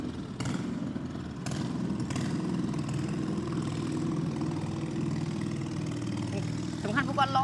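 A fishing boat's engine runs steadily on the water, giving a continuous low mechanical drone at even loudness from start to finish, with faint voices in the background.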